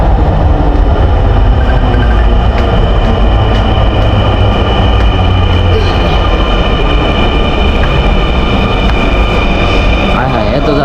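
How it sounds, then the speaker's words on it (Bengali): Dhaka metro train arriving at a crowded station, a loud steady rumble and rolling hum filling the whole stretch, with station crowd noise and people talking underneath. "মেট্রো চলে আইছে"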